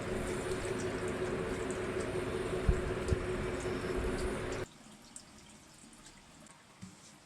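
Water draining off soaked rice, a steady wash of pouring and trickling with a few small drips and knocks, then it cuts to a much quieter dripping. No one speaks.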